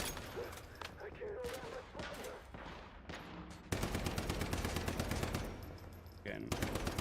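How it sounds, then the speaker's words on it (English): Rapid automatic gunfire from the video game Warhammer 40K Rogue Trader rattles in dense bursts, growing louder and more continuous partway through, with a voice talking over the shooting. "Shoot that one. Shoot that. I need to shoot that one."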